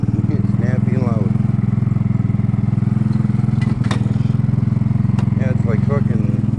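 Kymco People 250cc single-cylinder scooter engine runs steadily while riding, a loud, close, throbbing drone with a few brief clanks, as people talk over it at times.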